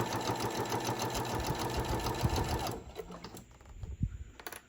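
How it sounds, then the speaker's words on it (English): A sewing machine hums in a fast, steady stitching run along the edge of fabric pennant banners, close and clear, then stops abruptly, leaving a few quiet handling thumps. "I'm going to sew along the edge, and literally I am using my guide. I'm sewing like right along here."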